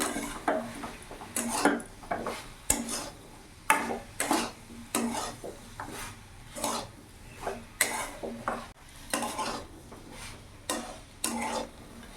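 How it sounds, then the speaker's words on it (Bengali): Fried potatoes stirred into a soybean curry in a pan: repeated scraping and clattering strokes of a spoon against the pan, in an uneven rhythm, over a faint sizzle, close and moderately loud, with no talking. "এবার ভেজে রাখা আলুটা পুরোটা দিয়ে দেবো ভালো করে মিশিয়ে নিই"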